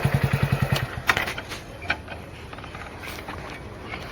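A motorcycle engine idles with a rapid, even chugging pulse for about a second, then fades into muffled clatter and faint street noise during a roadblock on a road.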